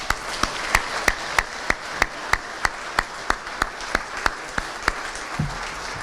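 Applause for athletes at a school fall sports awards assembly, a continuous crowd patter punctuated by one loud, steady clapper beating a regular rhythm close by.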